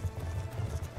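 Horse hooves clip-clop at a steady galloping rhythm in the video game Call of Duty: Black Ops 2, a continuous close thudding under faint background sound, with no speech.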